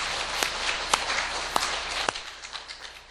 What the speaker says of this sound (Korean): 사회봉사부를 위해서도 박수 드리겠습니다.